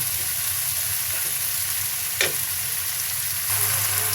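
Spices frying in a pan with beef kidney give a steady close sizzle, with a brief stirring scrape partway through and the crackle swelling slightly near the end.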